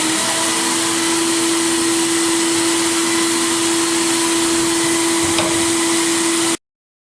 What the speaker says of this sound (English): And now, put you on, and it's blasting time.